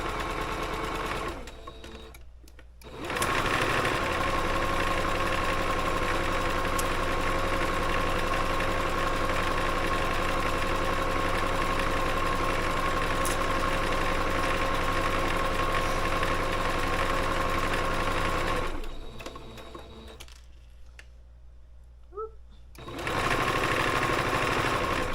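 A serger sewing machine runs in long, loud, steady bursts of fast mechanical stitching, with a pause near the start and another short pause near the end.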